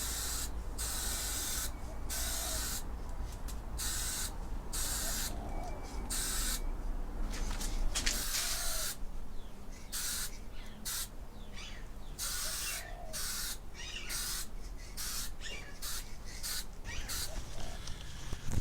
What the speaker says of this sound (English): So I'm about to take it outside and spray it.